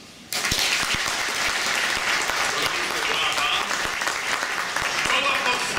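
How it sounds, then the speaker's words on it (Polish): Loud, sustained applause from an audience at a national pilgrimage gathering at Jasna Góra, a dense wash of clapping that bursts in after a brief quiet start and continues steadily to the end. "Gorące brawa."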